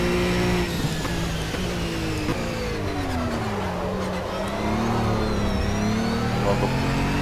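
Ginetta GT4 race car engine in Project CARS at the Zhuhai circuit, a steady mid-pitched drone rising and falling with throttle as gears shift, loud and continuous throughout with no talk.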